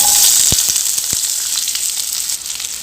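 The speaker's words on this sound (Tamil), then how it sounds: "இப்போ வெங்காயம் வதக்கிறதுக்காக ஒரு 2 ஸ்பூன் போல் ஆயில் சேர்த்துக்கலாம்." Sliced onions sizzle in about two spoons of hot oil in a pan, a loud steady frying hiss with a few soft stirring knocks and no talk.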